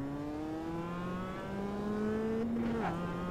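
A race car in a racing video game accelerates around the Spa circuit, its engine note climbing steadily through the gears, with a brief shift blip near the end. The engine is loud and continuous, with no voices.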